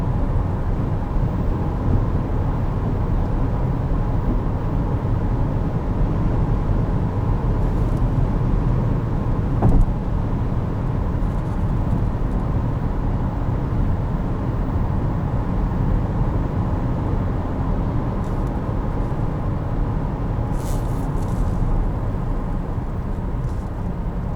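Steady engine and road roar inside a 2020 Chevrolet Blazer 2LT Redline Edition as it pulls up to highway speed, a continuous dense rumble holding level throughout with no talking.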